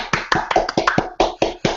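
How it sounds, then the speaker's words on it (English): About nine sharp hand claps in an uneven, quick rhythm, loud and close, each a crisp slap with a short tail, marking the start of a recording. "Wait, do we need to clap again so you know where to start?"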